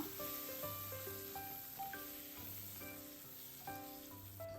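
Curry leaves sizzle in hot oil for a Kerala-style sardine curry, a steady close frying hiss running throughout beneath background music with melodic notes.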